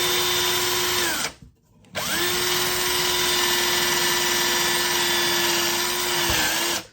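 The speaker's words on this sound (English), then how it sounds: "I'm going to show you how the step drill works." A step drill bores through a plastic Otterbox phone case, a loud steady whine that stops briefly, restarts, then holds its pitch for several seconds before cutting off near the end.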